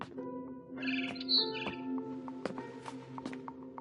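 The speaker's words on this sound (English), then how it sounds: "Then I heard chirping outside my window." Barn swallow chirping in the video game What Remains of Edith Finch, a series of close, bright tweets and short trills repeating over a low steady ambient hum.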